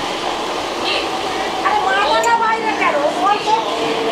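Local train on the Digha–Howrah line running fast between Panskura and Mecheda; steady broadband rumble and rattle throughout, with a voice talking over it in the second half.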